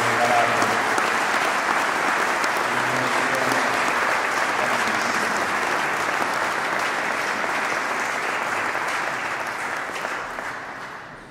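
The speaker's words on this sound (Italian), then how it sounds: "cui farei un altro grande applauso insieme al coro di Marta Benedini," Sustained audience applause fills a Christmas choir concert by a university choir, a dense steady wash of many hands clapping at an even level before tapering off slightly at the end, with no talk over it.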